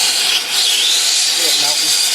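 A torch heating and melting solder for a silver inlay on a deer horn handle, a loud, continuous roaring hiss that holds steady throughout.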